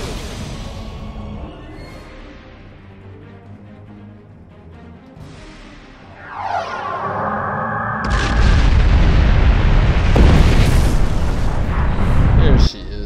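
A ship in a TV sci-fi battle is struck by weapons fire, low rumbling tones swelling into a sweeping burst and then a heavy, loud explosion with sustained booming debris, while voices speak over parts of it.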